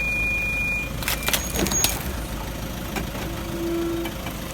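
A Toyota Hilux 4x4 crawls slowly down a steep, rough bush track, its engine a low, steady idle-like drone throughout, with a few brief knocks and rattles partway through.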